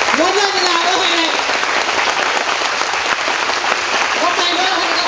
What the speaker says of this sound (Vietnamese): Xin một tràng vỗ tay ạ.